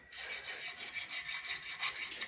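Steady back-and-forth rasping of sandpaper rubbed against a surface in a shop, close and continuous with a rhythmic scratchy pulse.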